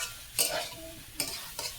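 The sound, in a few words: stirring potatoes and soybean frying in a pan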